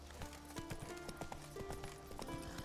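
Horse hooves clip-clop in steady, repeated beats across a game world in The Witcher 3, close and distinct over a low ambient bed, with an occasional faint whinny.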